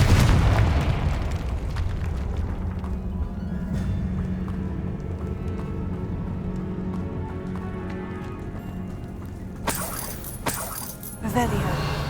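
Confringo spell explosion in the Hogwarts Legacy video game, a loud booming blast at the start that rumbles and fades under game voices, with a sharper burst near the end.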